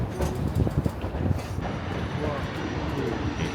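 The Durango & Silverton narrow gauge train runs along with a continuous rumbling clatter, louder bursts early on settling into a steady roar.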